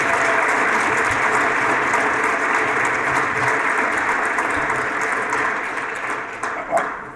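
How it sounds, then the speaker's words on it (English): Steady, dense applause from a large crowd at an education awards ceremony fills the room, holding strong throughout before tapering slightly at the end. "So get one more round of applause for Mr. Harold Sweeney."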